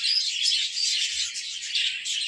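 Budgerigars in a backyard aviary colony chirp and twitter in a dense, continuous chorus, bright and steady throughout with no pauses and no talking.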